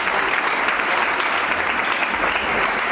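Steady, dense applause from wedding guests celebrating a newly married couple at an evening dance party in Brazzaville, close and continuous for the full length, with no clear speech above it.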